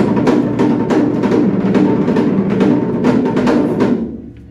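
A rapid, steady pattern on a Polynesian fa'atete drum of wood and skin plays up close, with many quick sharp strikes in a driving rhythm before it stops abruptly.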